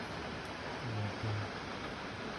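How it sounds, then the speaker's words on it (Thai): Tad Fane waterfall in southern Laos pours from the mountains as a continuous broad roar, steady and unbroken, with a faint low hum briefly rising beneath it. "นี่คือคือน้ำตกตาดฟ้านนะครับ"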